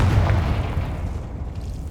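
A Confringo fire spell blasts in Hogwarts Legacy, a single low, booming burst up close that rolls off and fades over about two seconds, alone without talk.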